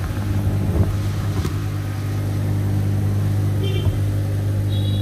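A Makita 9306-3 two-wheel 220V bench grinder runs smoothly with a steady low hum close by, broken by a couple of faint knocks near the start.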